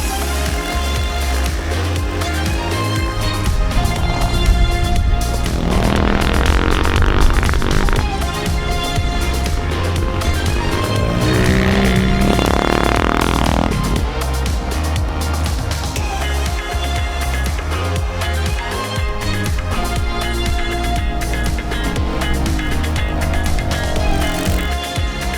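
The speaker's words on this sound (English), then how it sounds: "Heck of a time on the pit bike track." A pit bike rips around a backyard track, its small engine buzzing and revving in continuous loud bursts that surge and fade as it circles, with dense mechanical noise throughout.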